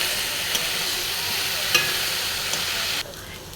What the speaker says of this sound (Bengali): এবার নাড়াচাড়া করে নেবো।